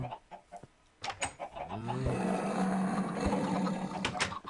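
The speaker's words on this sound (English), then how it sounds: "Chicken escaped." A Minecraft chicken clucks in a quick run of game squawks, clear and close, after a few scattered clicks and taps.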